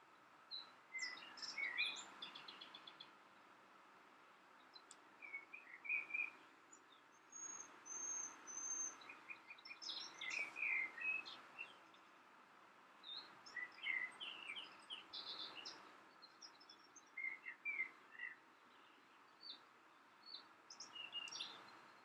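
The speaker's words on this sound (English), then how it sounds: "The birds are loud today, guys." Birds sing outdoors throughout, with repeated chirps, trills and whistles from several directions over a soft background hum, fairly faint and steady.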